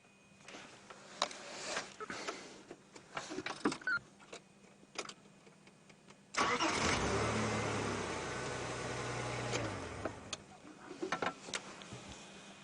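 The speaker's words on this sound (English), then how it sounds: "I'm going to turn on and then you'll hear the engine." A safari vehicle's engine starts partway through, runs loud and steady at close range for a few seconds, then cuts off, leaving quiet bush ambience with faint ticks and clicks around it.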